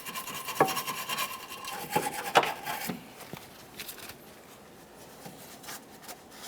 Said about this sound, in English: Prior to installation of the brand new rear upper control arm, we need to clean and inspect the mounting surfaces. I'm using a wire brush for this.